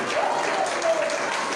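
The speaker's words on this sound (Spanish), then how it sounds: "brindarle un fuerte y bonito aplauso para el Cristo de la gloria" A church congregation claps in a dense, steady burst of applause that fills the room evenly for a second or two, with no distinct voices over it.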